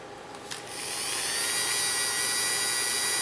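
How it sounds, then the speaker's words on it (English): A Dremel rotary tool spins up to a steady high-pitched whine as it cuts a stud on an IBM Model M keyboard from December 1989, starting with a sharp click and holding loud and close with no talk. "I'm going to cut a stud off, then turn the Dremel on"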